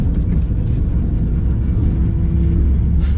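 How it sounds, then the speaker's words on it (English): An old purple van's engine rumbles loudly and continuously, with a faint steady grinding hum from its rear brakes mixed into the drone, no voices. "Yep, I can hear the rear brakes grinding"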